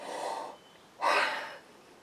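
A person breathes in deeply through the nose, smelling a scent rubbed onto her palms: a soft breath, a pause, then a louder, closer inhale lasting about half a second.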